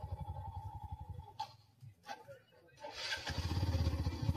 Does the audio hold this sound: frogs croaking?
no